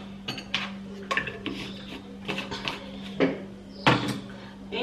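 A metal spoon scoops rice powder into a bowl, giving a series of close, sharp clinks and scrapes against the dish, irregularly spaced and fairly loud, with no talking over them.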